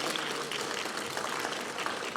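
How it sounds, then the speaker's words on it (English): Audience applause for the panelists at the 3rd European Universities Conference, a steady dense wash of many hands clapping at moderate level throughout, with no voices standing out. "A big applause for the panelists again"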